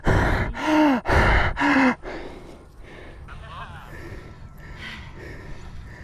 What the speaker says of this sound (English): Somebody sure is breathing loud and hard.